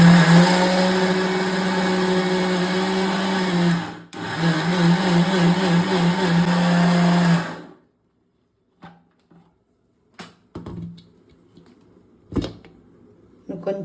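A kitchen mixer grinder whirs loudly and steadily as it grinds soaked fenugreek seeds for dosa batter, pausing once for a moment before running again, then stopping. A few clicks and knocks follow in near silence.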